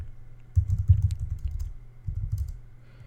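Someone types a password into a terminal on a computer keyboard, giving two short clusters of soft, muffled key taps separated by a brief pause, with no speech.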